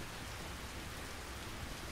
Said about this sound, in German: Wenn man im Game regnet